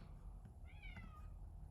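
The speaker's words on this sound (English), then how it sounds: "Sorry, that's my cat." A single cat meows at a closed door, a short rising-and-falling cry that sounds slightly muffled and fairly faint against a quiet room.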